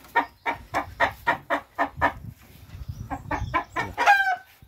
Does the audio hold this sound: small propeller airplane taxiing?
no